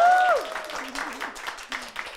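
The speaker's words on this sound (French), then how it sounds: "Je pense que vous pouvez les applaudir très très fort." Audience applause at a live concert in an apartment setting, following the end of a held sung note; steady, moderately loud clapping continues throughout.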